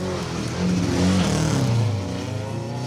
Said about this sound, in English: the throttle stuck open on that Corsa kit car, so it's just on the limiter as he comes into the stop line here